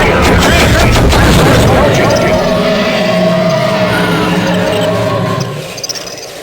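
Gunman Chronicles gunfire: dense rapid bursts of shots over shouting voices, loud at first and thinning out toward the end.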